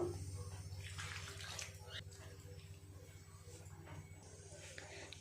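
Warm water is poured little by little into flour to make dough for hing kachori, a faint trickle over a low steady hum.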